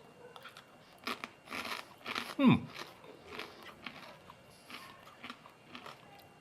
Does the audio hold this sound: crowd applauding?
no